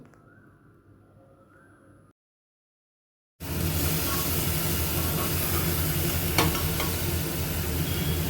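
Hot water is poured into a pot of chicken and chopped vegetables frying for a stew. A quiet low sizzle and a brief silence give way to a sudden loud, steady rushing hiss and bubbling, with no voices.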